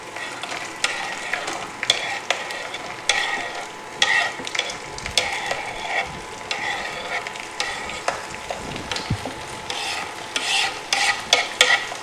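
Onion and tomato curry with crushed coconut and garlic is stirred in a hot pan, a spoon scraping and knocking in repeated strokes over a constant low sizzle, close up and without any voices.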